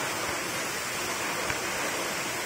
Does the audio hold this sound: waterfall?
yes